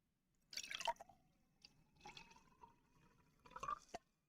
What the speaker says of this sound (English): Should we have some ASMR bubbles?